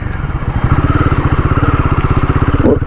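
A motor scooter's engine drones steadily on a highway at a normal riding speed, with a loud, close, rapidly pulsing exhaust beat that holds an even rhythm throughout, with no talking.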